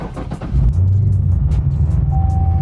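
A car pulls away and drives off on a rally road trip to Lake Havasu, a steady low engine rumble rising and holding close and loud, with a faint tone entering near the end.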